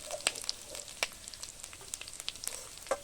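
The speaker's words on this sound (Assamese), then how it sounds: "5 মিনিটমান ভাজিলোঁ আৰু এইখিনি" Food frying in a pan: a faint, close sizzle broken by a few sharp crackles and light scraping clicks over about three seconds, with no voices.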